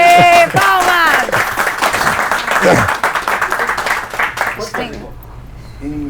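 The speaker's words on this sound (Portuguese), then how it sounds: "Ê, palmas!" A studio audience breaks into loud, dense applause and cheering just after voices speak, then the clapping thins and fades toward the end as talk resumes.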